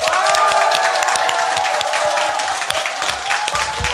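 A studio audience at a Korean current-affairs talk show bursts into sustained, dense applause that stays loud and even throughout, with faint cheering mixed in.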